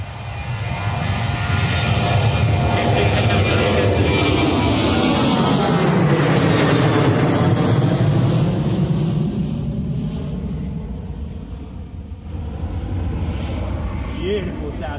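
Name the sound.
Jet2 Boeing 737 taking off to Alicante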